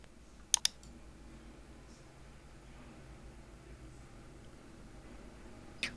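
Quiet computer mouse clicks at a desk: a quick double click early on and a single click at the end, with soft room hiss in between.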